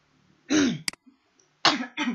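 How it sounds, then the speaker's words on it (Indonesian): Two rough, throaty coughs close to the listener, separated by a brief pause, each a short harsh burst, with quiet in between. "Maaf, batuk."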